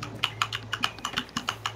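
Rapid, sharp keystrokes on a loud computer keyboard, picked up close during a Rainbow Six Siege match, ticking in an even, quick rhythm over a steady low hum.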